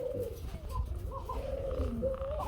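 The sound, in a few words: Danish koka pigeon cooing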